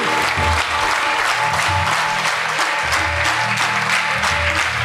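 A large audience claps steadily at a religious assembly led by a swami, a dense, loud, continuous wash of applause from start to finish.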